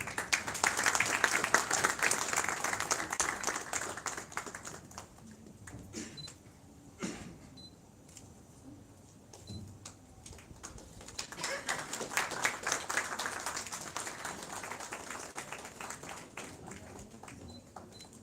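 Audience applause at an award ceremony during the 13th Dada Saheb Phalke Film Festival in India: a crowd claps loudly, fades into scattered claps with camera clicks, then swells again into sustained clapping for eighteen seconds.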